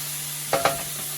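Fish ingredients caramelizing in a pan give two quick stirring scrapes close together over a steady low hum, with no other activity around them.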